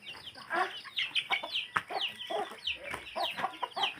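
Pet chickens cluck and chatter continuously at close range, with overlapping short calls and a few sharper squawks in a steady, busy rhythm, fairly quiet overall.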